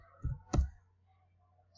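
Two distinct keystrokes on a computer keyboard, sharp and close with a short pause between them, while a DNSenum command is being typed; a faint tick follows at the end.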